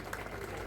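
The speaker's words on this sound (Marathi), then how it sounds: "एकदा त्यांच्यासाठी जोरदार टाळ्या होऊ द्या" A crowd at a political campaign rally in Patkul applauds for a district council candidate, producing a brief, faint, steady wash of clapping.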